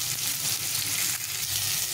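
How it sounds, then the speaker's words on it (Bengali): Potatoes and pointed gourd fry in oil in a pan, making a continuous close sizzle with faint stirring scrapes underneath and no speech. "একটু লাল লাল করে আলু আর পটলটা ভেজে নেব"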